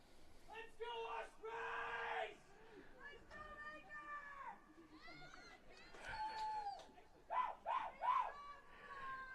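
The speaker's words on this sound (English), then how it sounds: "A little battle of the fan bases going on to our left, cheering on their respective teams" Rival fan bases at a soccer match yelling and cheering in bursts, with whoops and sustained shouts rising and falling over several seconds, moderately loud and somewhat distant.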